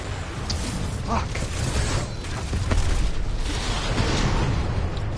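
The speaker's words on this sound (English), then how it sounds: "Titan explosion" A Titan explodes in a PS4 video game: a series of booms and bursts over a dense, continuous wash of game noise.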